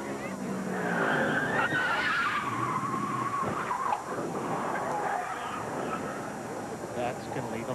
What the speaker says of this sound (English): lost the edge on his car and backed it into the wall